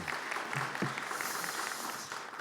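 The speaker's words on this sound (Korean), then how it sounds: "하나님께 영광의 박수 올립니다." Church congregation applauding during a New Year intensive prayer service, a steady wash of clapping from a crowd at moderate distance, fairly quiet and continuous throughout with no distinct voices.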